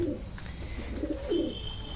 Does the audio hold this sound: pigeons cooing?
yes